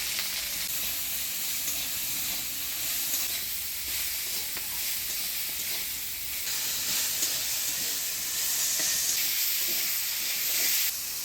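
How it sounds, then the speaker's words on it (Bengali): Eggplant fries in hot oil with turmeric and salt in a pan, making a continuous close hissing sizzle that swells louder toward the end, with occasional faint stirring. "বেগুনটা ভালো করে ভাজা ভাজা করে নিলাম"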